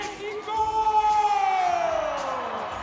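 A home crowd at a track cycling velodrome in Guadalajara, Mexico roars and whoops steadily, a dense, loud wash of voices with one rising whistle-like cry carried over it.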